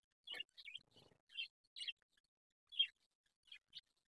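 Pet budgerigars in a breeding setup of thirty pairs give short, scattered chirps and warbles, fairly faint, with a few soft scratchy rustles between calls.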